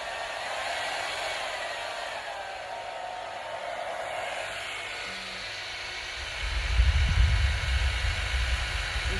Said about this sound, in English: I'm going to put the hairdryer on.